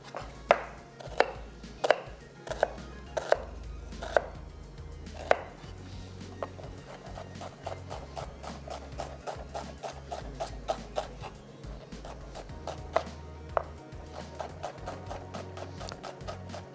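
A knife chops onions on a board for balti gosht. Sharp, fairly regular chops start loud and spaced out, then turn into quicker, lighter strikes.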